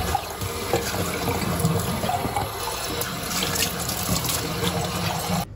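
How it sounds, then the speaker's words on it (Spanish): Tap water runs steadily into a sink while a wine glass is rinsed, a continuous close hiss and splash with small clinks and shifts in flow, no talk. "si no tenemos agua filtrada, podemos utilizar agua de la llave"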